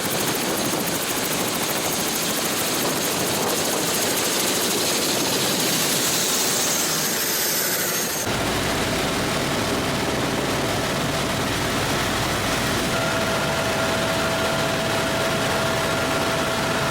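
Loud, constant roar of a helicopter engine and rotors from inside the cabin on a Grand Canyon flight, unbroken throughout with a shift in tone partway.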